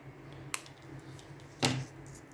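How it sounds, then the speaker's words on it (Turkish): Scissors cut through cord while making a tassel for a handmade bag. Two sharp snips are heard a second apart, the second louder and fuller, against a quiet room hum. "makasımızla keselim."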